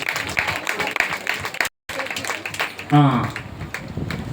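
A church congregation claps for a judge at a Good Friday service. The steady clatter of many hands fills the first part, breaks off briefly, and is joined by a voice speaking over the room.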